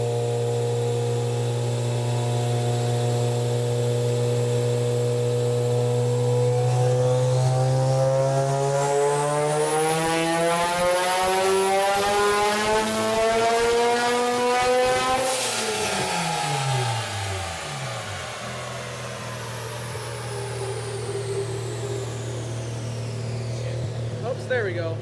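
A 600-horsepower V8-powered Mazda RX-7 revs on a dyno, its engine note climbing steadily to a loud, high peak, then falling away as the pull ends and settling back to a rumbling idle.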